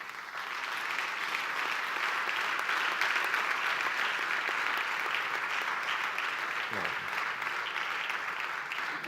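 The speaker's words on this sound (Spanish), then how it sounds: "Recibimos con un fuerte aplauso a Pipe Areta." An audience at a festival colloquium gives a guest a warm welcome, with loud, continuous clapping that holds steady and full for the whole stretch with no pauses.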